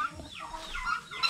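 Hungry pet chickens calling in the morning sun, with several short clucks and squawks rising and falling in quick succession, fairly close and alone without talk.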